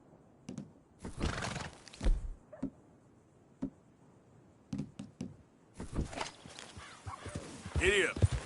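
A horse in Red Dead Redemption 2 whinnies loudly near the end after a run of sparse hoof clip-clops, with a voice speaking in short bursts between them.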